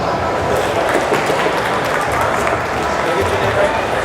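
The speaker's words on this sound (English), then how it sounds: "Give her a big round of applause." A dense, steady wash of audience applause rings out continuously at an event welcoming guest Stacey Agmata from the L.O.L.A Foundation, loud and sustained with no clear breaks.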